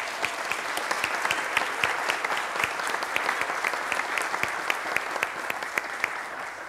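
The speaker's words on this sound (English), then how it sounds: "let's give them another round of applause" A congregation applauds during a Lutheran church service, with dense, steady clapping from many hands filling the room throughout, some individual claps standing out sharply near the front.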